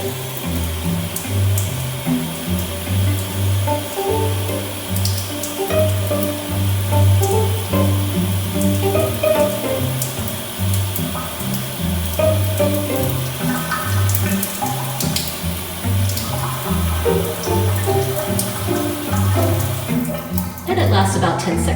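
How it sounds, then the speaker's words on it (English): Water streams steadily from a push-button campground shower spigot with fixed temperature, a continuous close hiss running for about twenty seconds before cutting off near the end. "the shower spigot, it's one of those showers that you can't adjust heat-wise"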